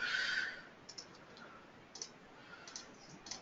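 Computer keyboard typing: an opening burst of sound, then scattered light clicks and taps at an uneven pace, close and fairly quiet, with no voices.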